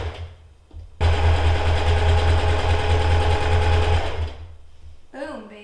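Sewing machine stitching fabric starts abruptly, hums and whirs loudly and steadily for about three seconds, then stops, followed by a voice talking briefly at the end.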